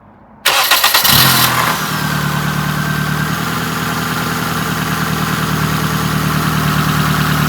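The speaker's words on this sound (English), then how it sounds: "I guess we'll fire it up and have a listen to it. It has a bit of an exhaust blow though" A 1998 Nissan Primera SE 2-litre automatic cranks briefly, fires up with a loud rev, then settles into a steady idle with an exhaust blow, heard close and without talk.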